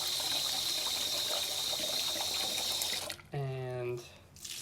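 Tap water gushes steadily into a pot holding lentils for rinsing, a close, full rushing stream that stops after about three seconds, followed by a brief voice.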